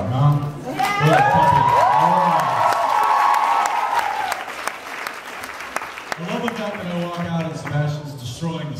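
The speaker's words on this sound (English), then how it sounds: "One more round of applause for Sebastian Brock, huh?" Fan convention crowd claps and cheers loudly, with whoops and shouted voices rising over dense applause, easing slightly midway, then swelling again with more yelling.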